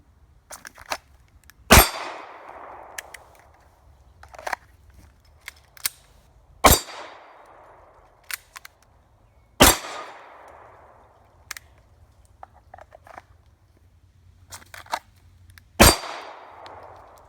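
Four loud, sharp gunshots from a full-sized pistol ring out at uneven intervals, each with a short echoing tail, separated by quieter clicks and handling knocks.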